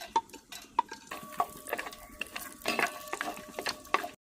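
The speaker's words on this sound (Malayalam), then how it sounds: "അണ്ടിപ്പരിപ്പ് ആദ്യം വറുത്ത് വരുവയ്ക്കാം അല്ലേ" Cashews fry in ghee in a pot for a carrot semiya payasam, heard as a quiet, close clatter of a spoon stirring against metal with light scattered ticks and faint sizzling between them.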